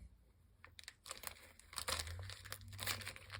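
Plastic package of large black bead chain eyes for fly tying being cracked open, quiet crinkling and crackling with sharp clicky snaps building up over a few seconds, close up.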